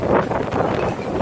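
Gusty wind buffets the microphone with a steady broadband rush, close and fairly loud, swelling slightly throughout.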